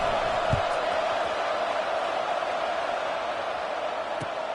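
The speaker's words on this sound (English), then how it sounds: "this crowd is buzzing after that last score" A football stadium crowd buzzes after a score, a steady, dense roar of many voices that holds at an even level throughout with no single standout cheer.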